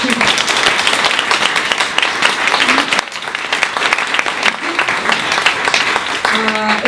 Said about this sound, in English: Please, a round of applause to our panelists.